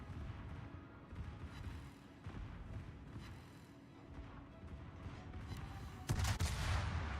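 Battleship main guns firing in World of Warships: a low, rumbling backdrop of distant battle noise, then a sudden heavy boom near the end that rolls on loudly without speech.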